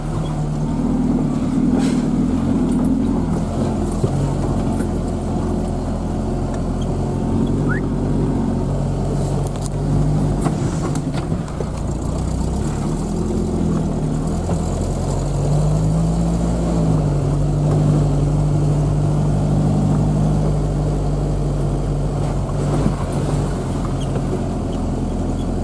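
A car crawls in first gear along a badly broken road deep in the taiga, its engine droning loud and steady with low mechanical hum and occasional jolts and rattles, and no talking.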